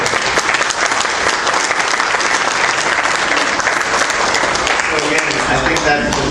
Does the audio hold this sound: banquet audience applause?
yes